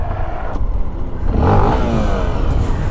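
Honda XRE 300 2020 motorcycle with ABS disabled, engine revving hard during a wheelie on a street, a loud close mid-pitched roar that swells and holds with rising pitch and mechanical clatter, no talk.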